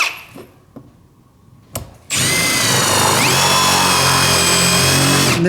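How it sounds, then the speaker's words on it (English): A carbide-tipped countersink drill bit bores into wood, starting with a few light knocks before the drill spins up into a loud, continuous whine that holds steady for several seconds, then cuts off. "if you're wanting to countersink it way in, so you can put a wood plug in"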